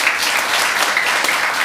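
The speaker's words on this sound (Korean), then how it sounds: "윤유미 선관위원장의 수고에 따라 박수 부탁드리겠습니다" Steady, dense applause from a crowd at a party members' convention in Ulsan, loud and continuous throughout with no voices over it.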